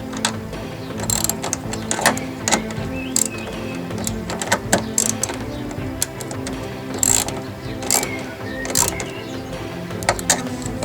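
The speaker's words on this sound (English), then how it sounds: "Okay, so I'm just going to finish tightening this bolt up." A ratchet tightening the airbox bracket bolt on a 2.0 Turbo car during a CDTI airbox conversion, giving repeated close metallic clicks in uneven bursts over a steady background.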